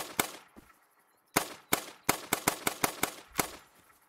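Gunshots in a hunting video game, a run of sharp rifle cracks, one early then several quick shots in an irregular burst, loud and close with no talk over them.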